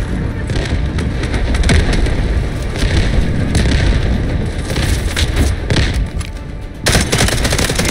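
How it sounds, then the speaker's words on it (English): Heavy artillery barrage and rapid gunfire in Delta Force multiplayer combat, a loud continuous din of booms, thuds and machine-gun bursts throughout, with faint voices mixed in. "Artillery ready for barrage."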